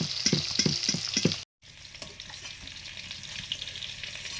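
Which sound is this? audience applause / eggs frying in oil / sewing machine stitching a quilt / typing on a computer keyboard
eggs frying in oil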